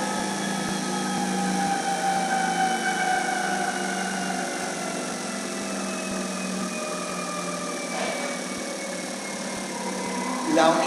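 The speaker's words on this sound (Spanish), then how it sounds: "Cuando yo ponga el motor a ralentí, ahora vamos a bajar revoluciones." A car engine idles on an Elwe Motronic fuel-injection training rig, a steady close hum with faint whining tones holding throughout, a brief clunk near the end and a small rise at the close.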